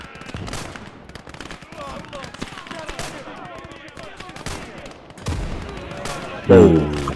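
Artillery and rifle fire in the Call to Arms video game, a 1946 defense mission, crackle in scattered sharp shots beneath someone talking, ending with a louder heavy blast.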